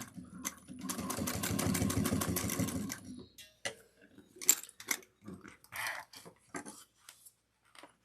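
A sewing machine stitches a wallet in a steady whirring run, then stops; scattered clicks and handling noises of the work follow, close and without talk.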